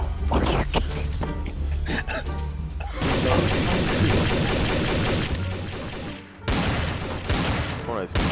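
A gun fired in a video game: sharp, rapid bursts of shots close up, first scattered, then a long sustained volley, a short pause, and another burst, with a voice speaking now and then.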